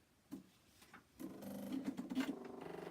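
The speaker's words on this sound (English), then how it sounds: "So I'm going to get my machine turned on." A sewing machine starts up for stitching quilt blocks, a couple of quiet handling knocks followed by a soft, steady mechanical whir with a fine rapid pulse, close and low in level.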